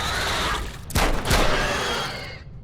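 Gunfire in the VR shooter Metro Awakening on PSVR2: a quick volley of two loud, sharp rifle bursts close together, followed by a fading rumbling tail against a steady background hum.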